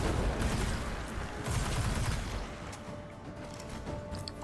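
Weapon fire in the video game Destiny while fighting a knight: a rapid, dense burst of gunfire crackles loudly for a couple of seconds, then tapers into softer scattered shots and ambient game noise.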